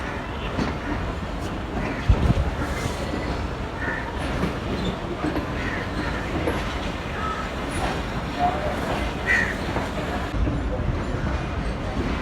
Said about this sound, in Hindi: प्लेटफॉर्म नंबर 2 को खैरबाद कह रही है हमारी 18 और मिलत एक्सप्रेस।